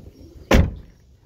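The rear-hinged back door of a Mazda RX-8 gives a single short, close clunk as it is opened, with quiet surroundings before and after.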